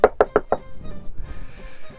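Four quick, sharp knocks rap on a house door close by, followed by faint room noise and shuffling.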